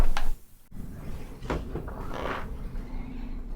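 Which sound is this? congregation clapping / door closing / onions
door closing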